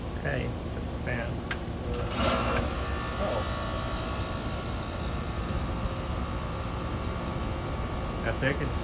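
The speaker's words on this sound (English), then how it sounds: "That's air conditioner." A 4-ton air conditioner powered by a generator hums and whirs in a constant broadband drone, with brief voices and a few clicks near the start.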